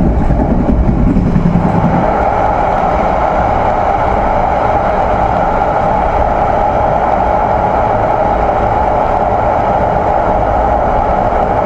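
Kutojaya Selatan passenger train rumbling steadily into a station, a loud continuous rolling roar with a heavier low surge in the first two seconds, then an even sustained rumble throughout.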